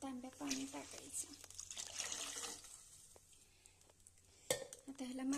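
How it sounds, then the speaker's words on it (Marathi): Water from two jugs splashes into a cooking pot holding chilli paste, peanuts and turmeric, a close splashing pour with a pot clank, while someone talks over it. "दोन तांब्या पाणी टाकायचं"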